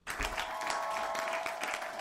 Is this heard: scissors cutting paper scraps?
no